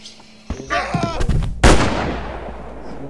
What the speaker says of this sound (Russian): Да это по мне стрельба.